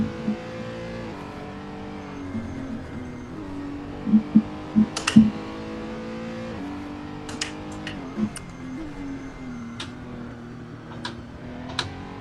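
Race car engine in a sim racing video game, a steady mid-pitched drone that rises and falls as the throttle is feathered through corners, with a few sharp clicking ticks and brief bursts layered over it, no talking.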